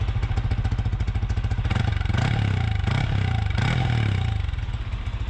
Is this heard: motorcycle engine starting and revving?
yes